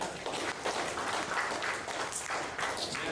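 A small group at a bootcamp gym claps for a woman who has just finished a deadlift, fairly faint, scattered applause lasting a few seconds at a steady level.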